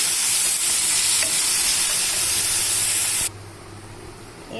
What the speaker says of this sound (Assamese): এয়া মই সকলোখিনি একেলগতে মিক্স কৰি ভাজি আছোঁ।